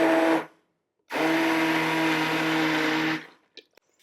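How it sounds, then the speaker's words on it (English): An immersion blender whirs loudly while pureeing carrot-ginger soup, running in two bursts: a short one that cuts off, then a longer steady drone of about two seconds before it stops, followed by a few faint clinks. "You want to make sure the immersion blender is just as it's called, immersed into the liquid."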